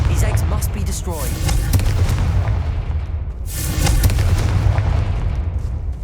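Blasting spell detonating spider egg sacks in Hogwarts Legacy, a series of heavy booming explosions with rumbling low-end decay, loud and close, with a voice talking between blasts.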